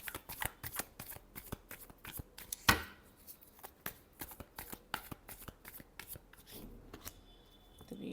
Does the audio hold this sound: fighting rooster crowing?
no